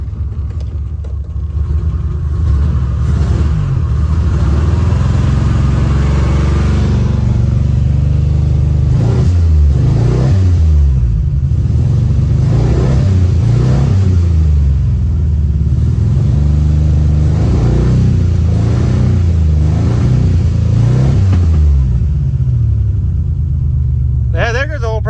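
Engine of a 1986 Nissan Maxima wagon with a cut exhaust, left abandoned for decades, rumbling loud and close, then revving in several rising surges midway before settling back to idle.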